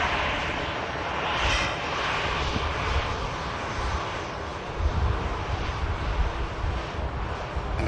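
Engines of an Aer Lingus UK Airbus A330 at Manchester Airport, a loud, broad, continuous jet roar that swells and holds steady with some wind buffeting and no talk.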